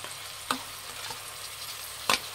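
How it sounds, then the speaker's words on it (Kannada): Finely chopped tomatoes frying with onions in a pan, a close steady sizzle broken by two distinct stirring scrapes, with no voices. "ಟೊಮೆಟೊ ಫ್ರೈ ಮಾಡಬೇಕು"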